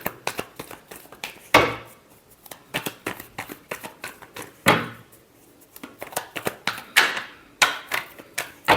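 Tarot cards are riffled and shuffled in a string of crisp, close flutters and snaps, with brief bursts repeating unevenly and no talk.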